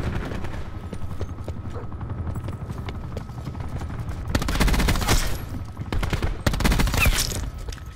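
SAUG submachine gun firing in Black Ops 4 multiplayer, rapid automatic bursts that grow louder and denser midway, heard close over continuous game ambience.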